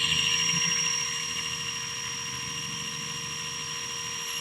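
Blade 230 S RC helicopter in flight, its rotor giving a steady whirring drone with a high whine, slightly louder at first and then holding level and close throughout.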